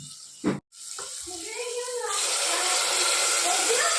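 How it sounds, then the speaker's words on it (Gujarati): Water is poured into a cooking pan of spiced guvar and potatoes, a brief clatter followed by a steady rushing pour that grows fuller and stays loud to the end; a voice briefly speaks at the start. "થોડું પાણી નાખી"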